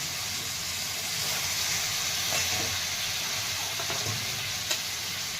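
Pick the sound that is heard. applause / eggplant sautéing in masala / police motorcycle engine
eggplant sautéing in masala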